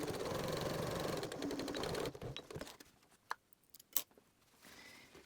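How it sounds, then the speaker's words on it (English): A sewing machine stitching the ends of scrunchie fabric, a fast steady whirring hum for about two seconds, then stopping, followed by a few quiet clicks and taps close by. "stitch along the ends, back stitching at the start and end"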